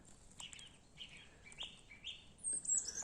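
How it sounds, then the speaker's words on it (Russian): Small birds chirp and tweet nearby outdoors during a metal-detecting outing on a foggy day, several short bright calls scattered over quiet background, fairly faint and without talk. "Птицы тут рядом летают, шебечут."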